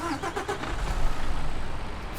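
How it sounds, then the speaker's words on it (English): A Mercedes-Benz Actros Euro 6 truck engine idles in Euro Truck Simulator 2 with a smooth, low rumble, steady and fairly quiet, with no voices. "Even the engine, listen to the engine."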